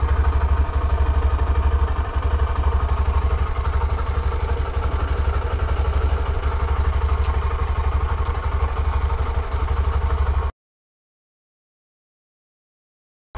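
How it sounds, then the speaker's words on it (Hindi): A Honda Shine 125 motorcycle idles close by with a steady, even putter and light mechanical clatter for about ten seconds, then cuts to silence. "बाइक स्टार्ट कर दी है मैंने और थोड़ी देर टाइम देना पड़ता है"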